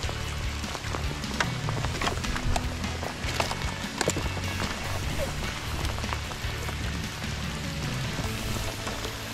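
Steady rain patters on a surface, with scattered louder drops ticking through a constant wash of sound, no talking.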